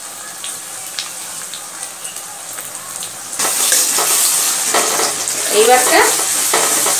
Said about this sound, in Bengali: পটলটাকে ভালো করে নাড়াবো, গ্যাসের জোরটা মিডিয়াম দেবো।